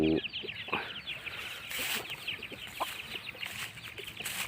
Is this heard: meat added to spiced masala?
no